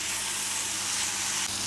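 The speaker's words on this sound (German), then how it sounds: "Also ich brate das jetzt auch gerade an mit ein bisschen Sesamöl." Chicken teriyaki and vegetables frying in sesame oil, giving a steady, loud hiss and sizzle from a hot pan, close up and unbroken for a brief moment.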